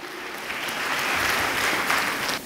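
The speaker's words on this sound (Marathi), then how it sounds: "आपण जोरदार टाळ्या वाजवूया वचनासाठी." Church congregation clapping together in loud, dense, sustained applause for a couple of seconds, filling the hall evenly before cutting off.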